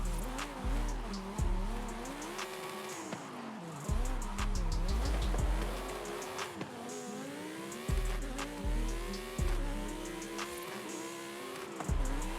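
A Maserati Gran Turismo S in the Forza Horizon 5 racing game revs hard while its tires squeal and spin, engine pitch sweeping up and down through repeated gear shifts, loud and continuous with no talking.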